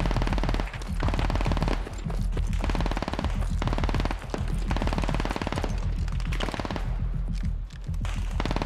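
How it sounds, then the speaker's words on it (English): Sustained rapid automatic gunfire in a Turkish Invasion gameplay match, loud and nearly continuous with bursts of machine-gun fire and brief gaps, dominating the mix. "Go ahead and start shooting."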